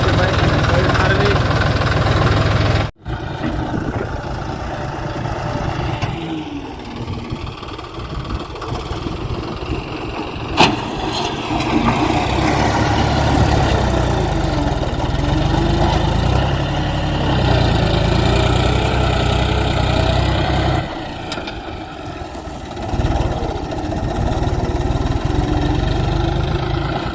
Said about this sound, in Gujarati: આજે આપણે લઈ જવાનો છે ટ્રેક્ટર હાંકવા.